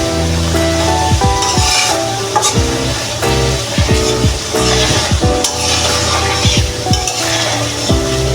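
Hilsa fish pickle masala frying in mustard oil, a steady close sizzle with repeated stirring scrapes and light clinks of a utensil against the pan throughout, no talking.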